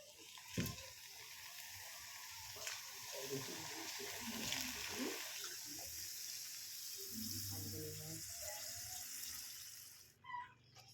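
Lay's potato chips fry in hot refined oil in a heated pan, giving a faint, steady sizzling hiss under occasional clinks and a person talking quietly.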